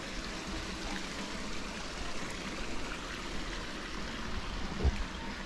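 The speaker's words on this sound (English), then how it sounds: "Has a waterfall," A backyard pool waterfall splashing into a pebble-tech pool, heard as a continuous rushing, trickling wash at moderate level with a brief bump near the end and no talking.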